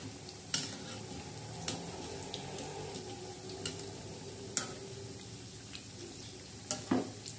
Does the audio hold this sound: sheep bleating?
no